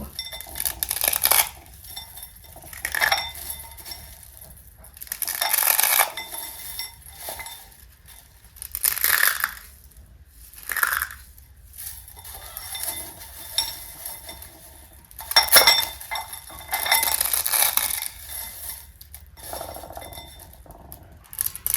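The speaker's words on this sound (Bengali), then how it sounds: "কত সুন্দর মুড়মুড় করে ভেঙে যাচ্ছে ম্যাগিগুলো।" Blocks of Maggi instant noodles are snapped apart by hand in repeated crisp, crackling bursts separated by short quiet pauses, close and fairly loud with no talking.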